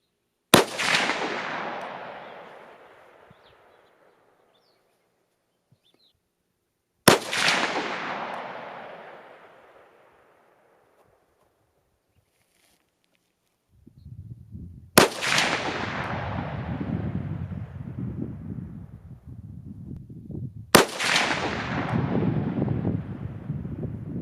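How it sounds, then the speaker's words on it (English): A CMMG 350 Legend Resolute AR-15 rifle fires Winchester White Box 145-grain ammunition, four sharp loud reports spaced several seconds apart, each ringing out and decaying, with wind noise rumbling between the later shots. "Let me show you a 5-shot group that I shot in real time with Winchester"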